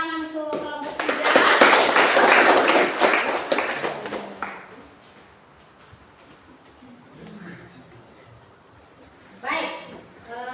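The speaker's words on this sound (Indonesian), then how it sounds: "Ya, tepuk tangan untuk kelompok 3." A burst of group applause from a classroom crowd, loud for about three seconds, then fading into murmuring voices and brief talk.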